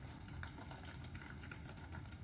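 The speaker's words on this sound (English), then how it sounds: "we're just gonna fold in the pasta with the cheese sauce" Soft, wet squelching and sticky stirring sounds close by as pasta is folded into cheese sauce, a continuous gloopy patter of thick mixing, quiet with no talking.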